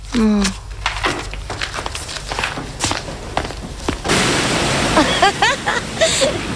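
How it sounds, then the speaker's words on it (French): Surf at a beach rushes and washes continuously, loud and close, with brief voices and splashy bursts over the broad wave noise. "Il y a trop de vagues"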